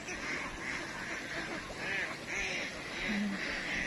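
Farm ducks quack in repeated short calls over a few seconds. The calls are moderately close and sit over a low, steady background.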